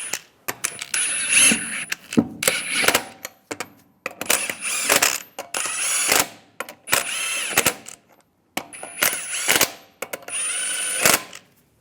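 An impact-style power tool runs lug nuts onto the front wheel of a 2007-2013 Chevy Silverado 1500 in six or seven loud, close bursts of whirring and rattling, each lasting about a second, separated by short pauses.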